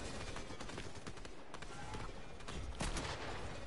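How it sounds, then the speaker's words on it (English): Dense bursts of rapid gunfire from an online team shooter game, coming in volleys with sharper louder cracks near the end, steady and fairly close throughout. "we got gunfire coming from two different directions"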